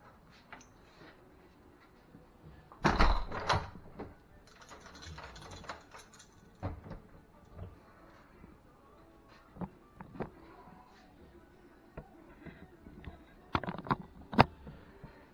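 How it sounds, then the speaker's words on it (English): A LockSafe door lock mechanism with fitted keeps locks, giving a loud mechanical clunk and rattle near the start, then a run of sharper clicks and taps that spread out over the rest of the clip, close and quiet between sounds. "I'll just show you the door locking."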